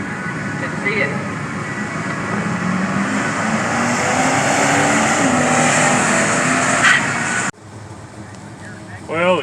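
A drag racing truck engine drones loudly and steadily at a dragway, then cuts off abruptly near the end before another engine rises briefly, with a voice talking over it.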